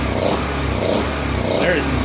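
A rough-running Honda EU1000i generator with its air cleaner removed chugs steadily and unevenly up close, its low engine drone continuous throughout.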